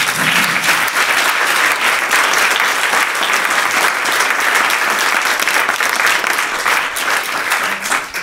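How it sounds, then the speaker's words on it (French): Audience in Lyon applauds chef Davy Tissot, Bocuse d'Or 2021 winner, at a seminar: loud, sustained clapping from a large crowd, dense and unbroken for several seconds. "Je crois qu'on peut encore applaudir ce parcours."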